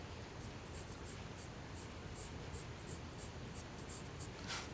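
Light pencil strokes skimming crumpled paper while sketching triangles, trapezoids and small lines, a soft steady scratchy rub with faint repeated strokes, close and quiet with no talking.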